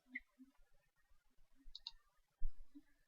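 A computer mouse clicks a download button, a few light, sharp clicks spaced across a quiet background, with faint noises in between and one louder thump near the end.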